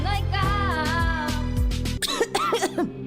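Harsh coughing bursts break out in a loud cluster, followed by several shorter, choked coughs, close to the listener, as from someone with a blocked chest struggling to breathe.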